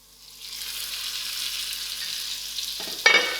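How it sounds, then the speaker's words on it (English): Vegetables and spices sizzle and fry in a pot for a spicy samp, beans and mixed veg dish, a steady close hiss swelling gradually, with a sharper burst near the end as the mix is stirred. "I'll add in my salt and give this a good mix"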